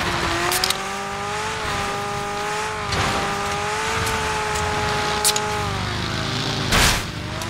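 A car engine in the video game PUBG drones steadily with a rising and falling pitch, with a few clicks and a brief burst of noise near the end.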